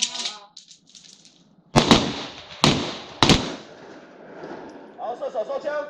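A Walther PPQ M2 9mm pistol fires three sharp, loud shots during a malfunction-clearance drill. A whistle-like tone comes first, and voices and range noise follow.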